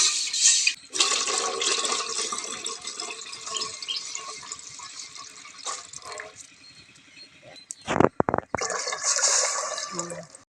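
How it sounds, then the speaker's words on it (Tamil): Water poured into soaked rice for puttu, a gushing splash that starts and stops, with a sharp louder pour partway through and other handling noises. "தண்ணி தேவையான அளவுக்கு ஊற்றிக்கலாம்."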